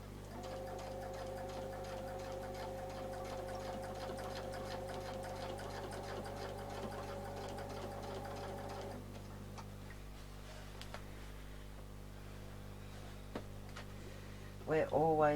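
A sewing machine stitches curved lines on a quilt with a rapid, even ticking whir that is steady for most of the stretch. A voice speaks over it, and a brief louder burst comes at the end.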